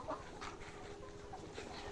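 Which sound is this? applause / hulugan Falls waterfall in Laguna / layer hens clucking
layer hens clucking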